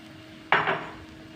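Roasted flour is stirred into raw turmeric halwa in a pan: a single short scraping clatter of a spoon against the metal pan, close and moderate, fading quickly into quiet.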